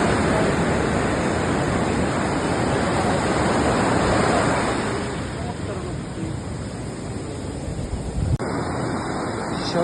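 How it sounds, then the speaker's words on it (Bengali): Rough morning surf at Cox's Bazar beach, swollen after rain: a loud, continuous roar of breaking waves close by, with wind buffeting the microphone, easing a little toward the end. "সকালবেলায় সমুদ্রটা খুবই উত্তাল।"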